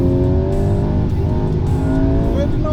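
Volkswagen Golf GTI engine running hard, close and loud, a steady throaty drone with rising and falling tones and a slight rev swell.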